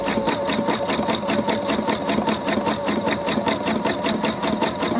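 A domestic sewing machine runs a plain zigzag stitch over a folded hem, a steady rapid needle chatter that stays loud and close with an even, unbroken rhythm for the whole stretch.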